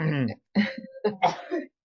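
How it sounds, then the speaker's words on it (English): A person clears their throat with a few short rough rasps during a casual conversation, close to the microphone. "clear my throat a little bit"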